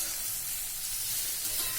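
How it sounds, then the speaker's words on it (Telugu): Vegetables for vangi bath fry in a pan, giving a steady close sizzle and hiss that runs unbroken with no talking over it. "ఇవి కొంచెం వేగనిద్దాం. కొంచెం వేగాలి."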